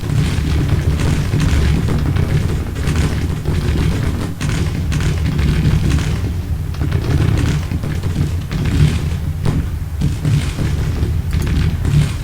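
A Civil War artillery battery fires in the Grand Tactician video game, a dense, steady roll of deep booms and rumbling blasts continuing loudly throughout without a break.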